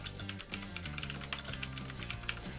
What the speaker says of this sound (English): now what you got to do is type in the command create